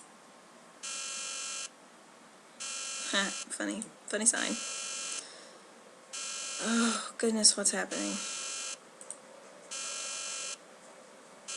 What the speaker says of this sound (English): What is that beeping? That has got to stop.